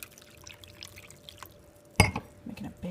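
Water is poured into a wine glass, a sudden bright splash and trickle around the midpoint after a quiet stretch, followed by a few smaller liquid sounds.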